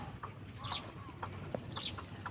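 A fallen baya weaver chick gives faint, thin, high peeps, two sharper calls among softer chirps over a low background hum, heard close up.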